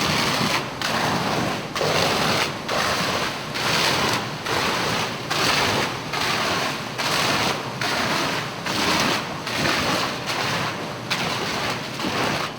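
A fire department hose stream at about 30 psi sprays against a fire-rated gypsum wall, a loud, dense, continuous hiss and rush of water that pulses rhythmically roughly once per second, with no talking.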